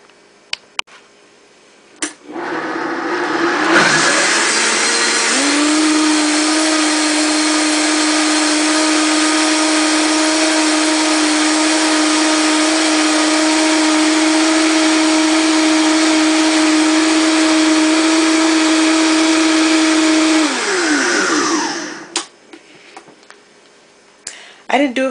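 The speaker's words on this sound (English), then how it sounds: "what I'm planning on doing is just blending it up just to mix it" A kitchen blender whirs through avocado soup with chicken thighs, asparagus and garbanzo beans, a loud, steady high-pitched motor drone lasting about seventeen seconds after a short start-up, then winding down to quiet.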